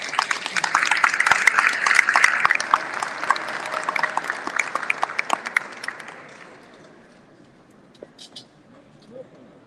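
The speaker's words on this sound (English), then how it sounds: "A round of applause again for our challengers." Audience applause at a county commissioner candidate forum, a dense wash of clapping that holds steady for about six seconds and then tapers off to sparse scattered claps.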